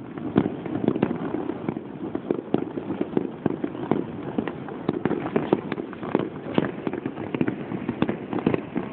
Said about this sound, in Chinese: 红色的烟火往下哎。